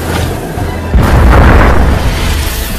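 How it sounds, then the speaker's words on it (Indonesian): A loud, deep dynamite explosion in water bursts out after a low rumble and rolls on as a sustained roar of debris and reverberation. "saat dinamit itu meledak"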